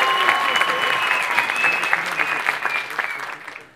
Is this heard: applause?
yes